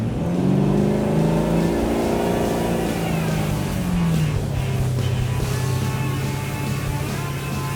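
A 2003 Malibu ski boat engine at full throttle, a loud, close roar whose pitch climbs and then settles into a steady drone, mixed with rushing water and wind.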